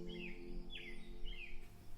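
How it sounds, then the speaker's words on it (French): A song thrush sings three short, clear, descending whistled phrases at dawn, evenly spaced and fairly close, over a low steady background hum. "La grive musicienne poussa son chant."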